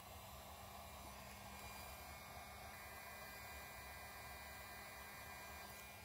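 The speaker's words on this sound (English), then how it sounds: "Now we use a heat gun on it." Heat gun blowing a continuous, even rush of hot air over heat shrink tubing on a wire at a Ford F-150 fuse box, a steady loud whoosh with a faint hum and no other sounds.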